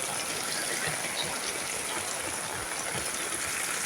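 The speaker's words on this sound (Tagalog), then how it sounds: "Kaya pag umulan na ganito kalakas, kahit 30 minutes" Heavy rain pours down in a low-lying neighbourhood beside a creek, with floodwater rushing along in a constant broad hiss and splash, loud and unbroken, with no voices.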